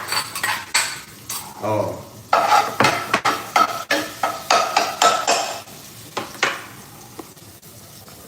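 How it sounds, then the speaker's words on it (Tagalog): Garlic goes into hot cooking oil in a pan, with a series of sharp metallic clanks and scrapes of a utensil against the pan over a light sizzle, close and fairly loud, with a brief voice. "So, mainit na mantika. Ilalagay na natin yung bawang."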